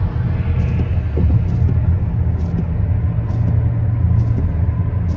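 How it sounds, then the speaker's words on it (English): Road traffic on a bridge gives a steady, close rumble of passing cars and a low engine hum, with soft periodic thumps from tires crossing joints. "Oops, there's a lot of traffic here."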